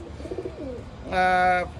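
A pigeon coos once near the end, a loud close rounded call just after a voice talks in a pigeon loft.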